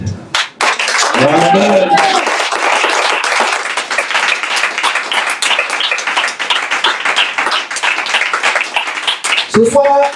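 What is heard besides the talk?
church congregation applauding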